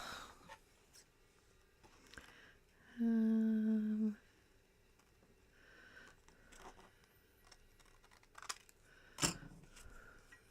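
Scissors snip once at close range during a crafting session, a single sustained cut lasting about a second in an otherwise quiet room with faint handling noises around it.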